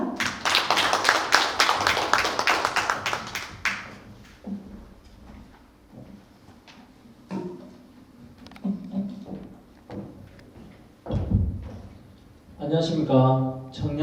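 An audience claps for a presenter at a youth policy ignite talk event, a loud burst of applause for about three seconds that dies away, followed by a speaker talking with scattered taps and handling noises.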